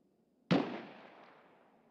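A single sharp gunshot from a Scav in Escape From Tarkov cracks out at once, then rings off in a long fading echo.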